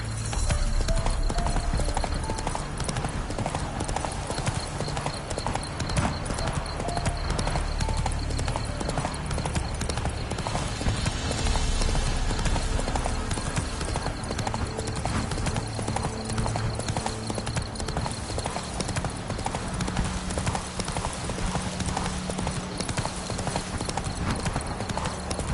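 The horse Roach galloping in The Witcher 3, with rapid, continuous hoofbeats close by and loud across the whole stretch, a voice speaking now and then.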